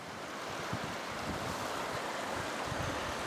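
River water rushing under a bridge in the Creuse, France; a constant, fairly faint broadband rush with a low rumble, with no voices or distinct splashes.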